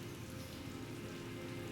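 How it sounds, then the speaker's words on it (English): Heavy rain pummels cobbled city streets in the Calvino Noir video game, a dense, steady hiss of downpour without pause or variation. "Biblical rain pummels the city"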